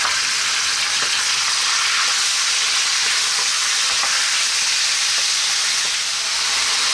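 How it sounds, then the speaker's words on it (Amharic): Lamb meat frying with spices in a pot for Arab lamb biryani, a loud, steady sizzle with crackling pops throughout and no talk over it. "ስጋችሁ ተጠብሶ እንደዚህ በተቀመሙ ጋር ሲጠበስ ምርጥ ይሆናል ማለት ነው።"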